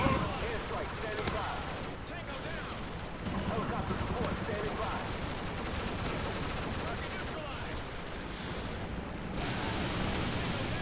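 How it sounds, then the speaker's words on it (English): Continuous rapid-fire gunfire from the Black Ops minigun, the Death Dealer, carried by a Juggernaut in a video game, roaring steadily and loud throughout with no pauses. "with the Black Ops minigun, or the Death Dealer as they called it, I believe, in Black Ops"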